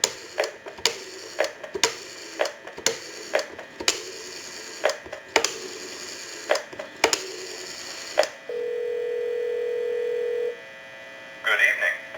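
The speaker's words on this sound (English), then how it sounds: "We'll go ahead and give you some dial tone, and we'll call that number." Pulse dialing on an Automatic Electric rotary Monophone telephone, with a series of sharp clicks in bursts, then a steady electronic tone for about two seconds and a brief ring-like burst at the end.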